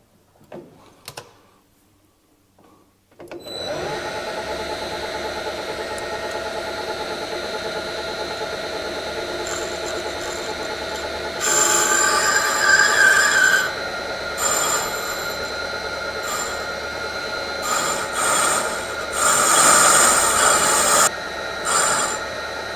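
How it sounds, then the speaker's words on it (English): A metal lathe spins a 1931 Ford Model A flywheel in reverse while a cutting tool takes passes, producing a steady mechanical whir with ringing, squealing tones that swell louder during the cuts, heard alone without talk. "we're going to spin the lathe opposite direction"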